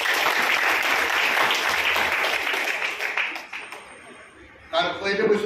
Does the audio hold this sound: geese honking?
no